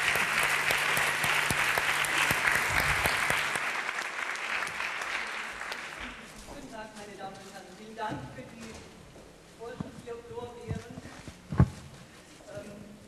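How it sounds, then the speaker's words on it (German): An audience at a lecture event applauds as a speaker is welcomed onto the stage, with dense steady clapping at first that thins into scattered claps, footsteps and background murmur. "Begleiten Sie mit Applaus Regina Hornung auf die Bühne."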